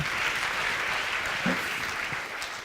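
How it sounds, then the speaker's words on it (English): Audience applause fills the stretch, a steady wash of many hands clapping at moderate volume, with a brief voice or cheer surfacing midway. "Give him a big round of applause"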